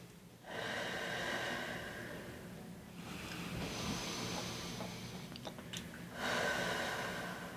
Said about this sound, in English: Let's go ahead and take a few big breaths through there